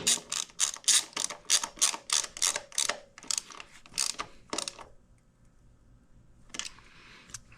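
A ratchet tightens a drain bolt on a Serveta Jet 200 gearbox, about a dozen quick, close, crisp clicks in rapid rhythm. A pause follows, then one short burst of clicking.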